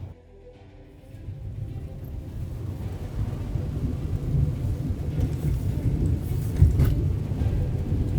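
Rain falls steadily in a dense British Columbia forest along a hiking trail, building from a quiet patter to a heavy, close hiss with a low rumble underneath.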